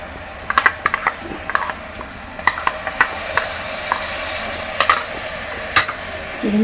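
Ground paste of two medium onions frying in oil for veg kurma, with a steady sizzle beneath repeated scraping clicks of a spoon stirring against the pan, close and fairly loud.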